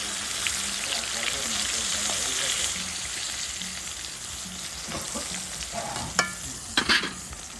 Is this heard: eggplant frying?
yes